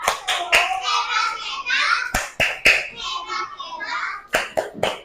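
Children in a classroom shout a rhythmic clapping chant together, with loud sharp hand claps punctuating their voices in bursts and lively chatter between the claps.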